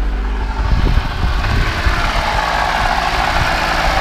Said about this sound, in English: Let me just start the car right there.